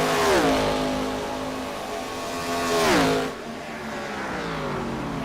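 ARCA race cars on the final lap at Indianapolis Motor Speedway, engines howling loudly down the back straightaway, one car's pitch dropping sharply as it passes and another roaring by moments later, with steady engine drone in between.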